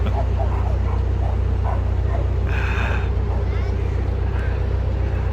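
Dogs bark and yip in short bursts over a constant low boat engine drone, with people talking nearby.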